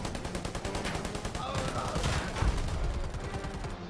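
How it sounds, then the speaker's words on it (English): Gunfire and a big explosion erupt in a fight in the video game Predator: Hunting Grounds, rapid shots rattling steadily with a heavier burst midway, loud and dense throughout. "Ooh, that was a big explosion."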